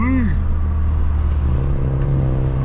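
A V6-engined car hums in a steady, loud engine drone with a brief rising whine at the start, heard from close by while people talk over it.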